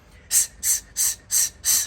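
Five sharp hissing exhalations through the teeth during mountain climber exercise, close and evenly spaced at a quick rhythm, each a short burst of breath with brief quiet gaps between.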